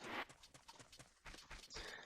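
Epona, a horse in the video game Zelda: Majora's Mask, trots with rapid clip-clop hoofbeats in a steady rhythm, close and moderately loud, with brief bursts of game noise layered over the steps.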